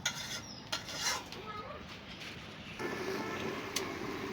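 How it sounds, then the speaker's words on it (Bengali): Beef cooks in a pot on a clay stove, with soft stirring, metal scraping and light clinks of utensils against the pot, faint and close, followed by a low steady simmer. "এই যে মাটির চুলায় বসে মাংস রান্না করতেছি আমি"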